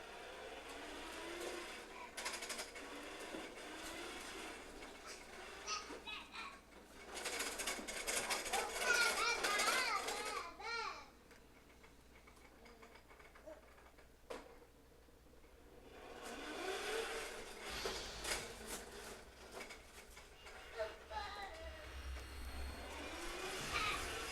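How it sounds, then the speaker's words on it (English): A child's loud toy lawnmower whirs in close, harsh mechanical bursts, loudest in two long stretches separated by quieter gaps. "your toy lawnmower is loud"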